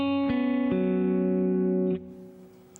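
Electric guitar picking out the notes of a barre chord, with a few sustained tones ringing together and renewed by fresh plucks before the sound cuts off and fades.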